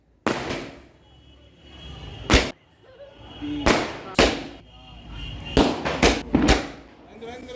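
A 12-shot firework cake fires a series of loud, sharp bangs in irregular bursts, each launch cracking close by with echoing tails, while people talk in the background.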